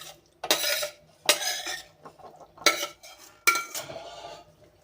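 Eggless Christmas plum cake batter with dry fruits is mixed in a bowl: a spoon scrapes and knocks against the sides in four or five bursts with short pauses between them, close and fairly quiet, with no talking.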